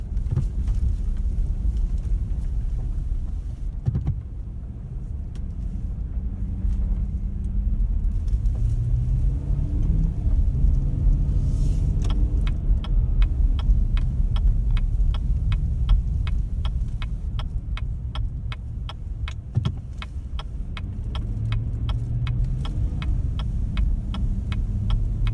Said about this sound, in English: we're driving a 2015 GMC Yukon XL SLT